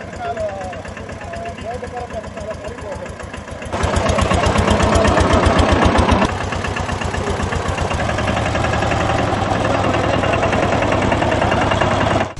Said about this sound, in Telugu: కాసేపు ట్రాక్టర్ నడిపారు